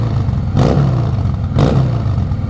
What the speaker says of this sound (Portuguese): Parar aqui para vocês só pra gente filmar o ronco aqui.